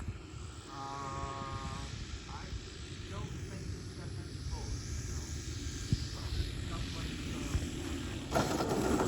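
A large 73-inch Hobbyking Sbach 342 RC plane drones steadily overhead while flying slowly, its propeller hum holding under people talking nearby, with a brief louder burst near the end.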